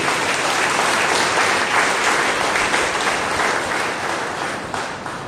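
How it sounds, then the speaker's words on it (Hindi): A congregation at a Monday prayer meeting bursts into loud, dense clapping that holds strong for about five seconds before starting to ease off at the end. "जोरदार ताली बजाएंगे"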